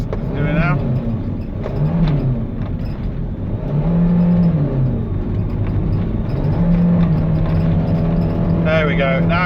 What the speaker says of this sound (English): Foot's welded down, just revving up, not going anywhere